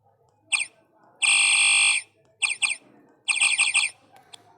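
A chirp sound effect played from an app's sound block in a coding tutorial: short bursts of bright electronic chirping, some brief, one held longer, separated by near silence.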